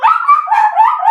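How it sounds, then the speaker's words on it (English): A dog whines and cries at a door, close and loud, in one continuous high, wavering whimper lasting about a second, with no one talking over it. "why is the dog crying?"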